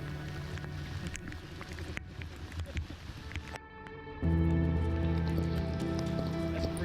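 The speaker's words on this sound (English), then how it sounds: "We paddled on through the rain, getting into a pretty remote stretch." Rain patters steadily on a river around a kayak during a remote paddling stretch, a dense continuous hiss with occasional drips, growing heavier and louder partway through.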